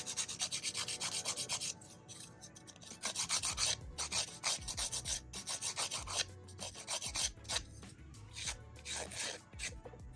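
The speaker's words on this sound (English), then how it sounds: "Starting first with our hand filing so that we can get the profile down." A hand file rasps back and forth over an acrylic nail extension built on a paper form, with quick, steady, close strokes running on without pause.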